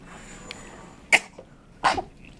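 A newborn baby sneezes twice in quick succession, two sharp close bursts about a second apart during a bath, with faint room noise between them.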